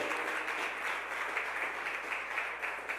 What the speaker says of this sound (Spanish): Démosle otro fuerte aplauso al Señor.